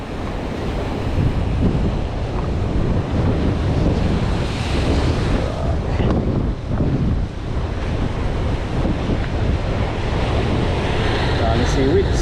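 Strong sea waves surge and crash continuously against the shore, a loud, rushing roar buffeted by wind noise on the microphone.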